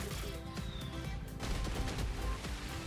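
Staggered bomb explosions set off by a redstone contraption in a video game, a dense burst of rapid overlapping blasts rolling on continuously at close range.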